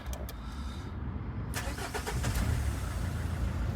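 A 2006 Renault Kangoo engine runs steadily at idle, a smooth even hum with a few clicks near the start, fairly close.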